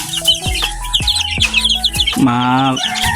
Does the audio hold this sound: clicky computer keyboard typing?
no